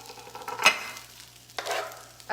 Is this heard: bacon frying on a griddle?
yes